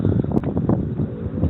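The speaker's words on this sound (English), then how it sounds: "it's quite windy at the moment" Wind gusting outdoors, buffeting the microphone with rumbling, uneven bursts of noise and a brief sharp knock partway through, no speech.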